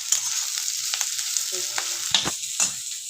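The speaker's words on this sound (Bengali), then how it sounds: "এই যে আমি পটল ভাজা করছি" Pointed gourd (potol) slices fry in a pan at home with a steady hiss of oil, broken by a few scraping stirs and clinks of a spatula, close and moderately loud with no talking.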